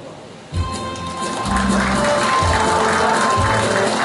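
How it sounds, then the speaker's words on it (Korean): An audience applauds an award recipient at a Rotary club anniversary and officer installation ceremony in Gumi, a dense, sustained clapping that rises sharply and holds steady and loud, with rhythmic thumps underneath and no speech over it. "수상하신 분께 다시 한번 뜨거운 박수 드리고"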